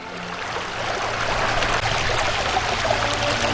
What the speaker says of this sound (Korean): 압록강의 소연한 물소리